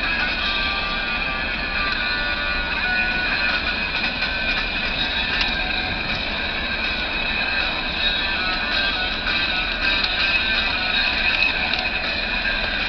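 A continuous rumbling train passes close by, with steady rail noise and some high metallic whine throughout, no voices.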